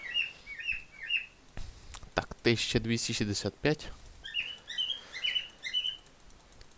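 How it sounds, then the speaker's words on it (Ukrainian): An off-screen parrot chirps repeatedly in short, bright tweets before and after someone speaks briefly, with the bird fairly close and clearly audible. "тут закадровий папуга нам заважає трішки записувати"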